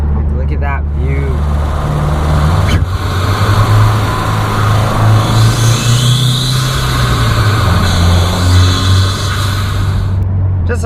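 Turbocharged 2018 Subaru WRX with a Stage 1+ tune driving along a coastal road, with a steady low engine drone, intake whoosh and rising boost tones. A person talks over the engine throughout.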